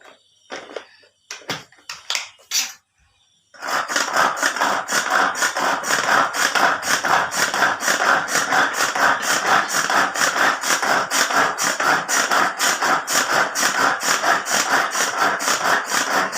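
Mixer grinder blending karonda chutney, a loud, steady churning whine with rhythmic pulsing that runs continuously after a few short starts and stops.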